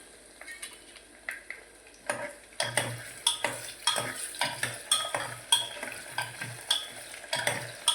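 Unpeeled potato pieces for a curry fry in oil while a spoon stirs them in the pan. Regular scraping strokes and clinks sit over a soft sizzle, close and moderately loud, with no voices.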